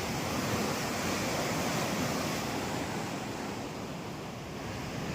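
Water from the Sutlej river rushes through the twin Faridkot canals in a steady, dense roar that never breaks, heard up close without any voices.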